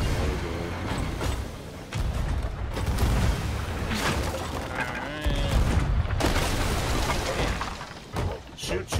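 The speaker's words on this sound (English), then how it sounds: "Shoot at the cannon line to destroy the skeletons." Cannon fire and crashing impacts during a ship battle against skeletons in Sea of Thieves, a string of heavy booms and shattering hits over a busy, continuous background of game noise.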